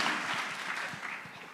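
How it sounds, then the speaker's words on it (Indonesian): A congregation claps in a dense, continuous burst of applause. The sound fills the room, stays close and fairly loud, then eases off slightly toward the end. "Tepuk tangan, jangan nanggung-nanggung Bapak Ibu Saudara"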